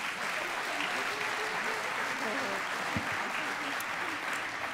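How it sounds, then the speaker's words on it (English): At an awards night for the Conwy Sports Awards 2018, an audience claps and cheers in a round of applause, a dense steady wash of clapping with a few faint voices mixed in. "Give Marianne Jackson a round of applause."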